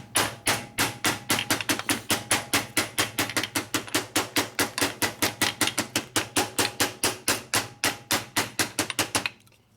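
A smooth claw hammer strikes a gear on the main shaft of a 1941 74ci Knucklehead motorcycle gearbox, about thirty sharp metallic blows in a fast, even rhythm, close and loud, then stopping.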